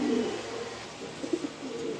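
Mukkhi pigeons in a loft, giving soft low cooing that stays faint and murmuring throughout, with a couple of slightly louder coos near the end.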